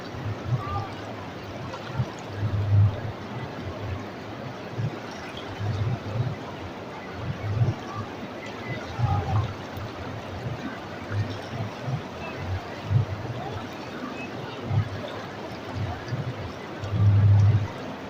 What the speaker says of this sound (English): Closer sound is river sound.